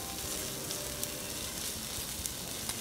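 Wagyu beef and sticky onions sizzle loudly and close in a hot pan. The hiss is dense and constant, with a few tiny pops and no talking.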